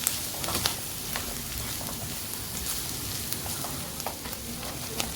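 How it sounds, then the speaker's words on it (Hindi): Red capsicum cubes fry in a pan for vegetable white sauce pasta while being mixed: a steady, crackling sizzle with scattered light spoon taps and scrapes, close, without speech. "ये डालकर मैं इसको अच्छे से मिक्स कर लूँगी।"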